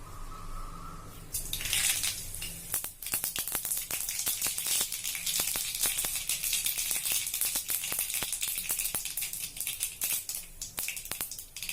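Mustard seeds crackle and spit in hot oil with dense, irregular popping, a busy sizzle that starts suddenly and keeps going steadily throughout.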